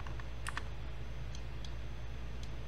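Mouse clicks in 3D modeling software while snapping points with a multi-cut tool: a handful of sharp, faint, sparse clicks over a steady low hum of room noise.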